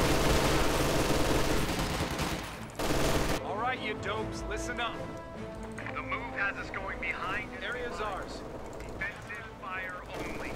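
Rapid machine gun fire from a Company of Heroes 2 battle, loud at first then continuing as a rattling backdrop beneath someone talking over the fighting.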